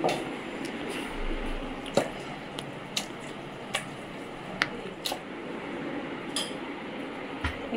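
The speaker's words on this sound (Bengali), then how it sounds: "চিকেনটাকে একটু মেখে নিই।" Raw chicken is mixed by hand for chicken kosha, giving quiet, soft squelching with occasional light clicks and taps against the bowl, close up and steady.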